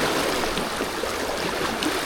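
Fast-flowing water of the River Tyne rushes steadily past close by, a constant wash and gurgle around someone standing in the current, with no voices.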